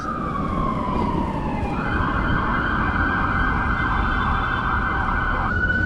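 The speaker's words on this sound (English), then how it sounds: "I'm getting followed by the fucking sirens." A loud emergency siren wails continuously, its pitch sliding then holding steady, with traffic rumble underneath throughout.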